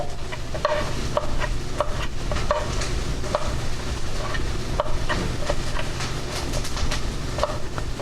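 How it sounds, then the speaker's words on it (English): Steady sizzling of a cubed-meat stir fry cooking in a pan, continuous and fairly loud, with scattered sharp crackles and faint chirping in the background. "You can hear a stir fry over there cooking quite well."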